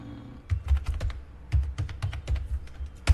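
Password being typed on a computer keyboard during Linux user setup, a quick irregular run of light key clicks in bursts with brief pauses, close and clear with no talking.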